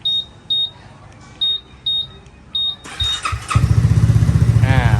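A Honda Forza 300 scooter is started by remote: several short electronic beeps repeat, then the engine catches and settles into a steady, close idle with a rapid pulsing putter.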